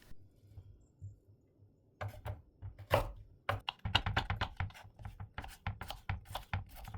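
A knife chops vegetable stalks into one-to-two-centimetre cubes on a cutting board for homemade beef broth, a rapid run of sharp, close taps after a quiet pause, irregular at first then settling into a steady chopping rhythm.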